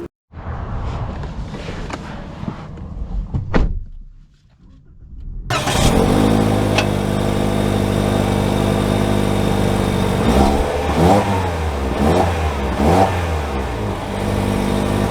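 A 2024 Toyota Corolla SE: a short cranking start followed by a close engine idle, then the engine rising and falling as it revs and pulls away, loud and steady.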